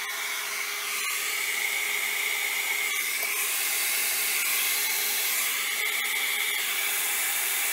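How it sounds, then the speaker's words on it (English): Hair dryer blowing steadily over alcohol ink artwork to dry and spread the ink, a continuous close airy whoosh with no talking. "I'm just drying it in place so that I can stretch this out some more."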